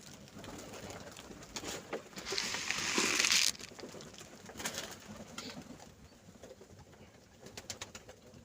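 Pigeons coo softly at moderate distance in winter, with soft repeated throaty calls, wing flutters and rustling amid light background noise. No one talks.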